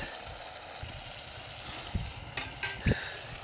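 Onions with salt, chili powder and turmeric being stirred in a clay pot over a wood-fire stove: soft, irregular scraping and sizzling with a few sharper knocks near the end, low and steady throughout.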